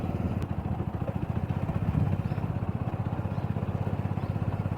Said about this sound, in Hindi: गाड़ी बहुत स्पीड में लेके जा रहे हैं मिलने के लिए।